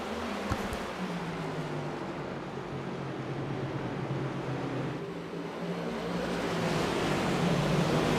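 Race cars starting on the green flag in a racing video game, a dense steady engine drone that swells slightly louder near the end, with no talking.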